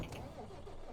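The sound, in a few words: Iveco truck engine running in Euro Truck Simulator video game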